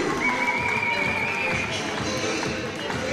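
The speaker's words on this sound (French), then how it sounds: "on les applaudit un peu plus fort encore, s'il vous plaît" An arena audience applauding at the close of a women's super-middleweight savate (French boxing) elite final in France, steady dense clapping throughout with a few voices mixed in.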